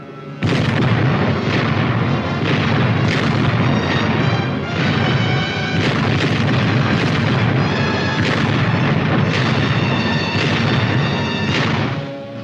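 Heavy artillery fire from WWII fighting in New Guinea, a loud continuous barrage of booming blasts and sharp reports rolling one after another on an old archive soundtrack.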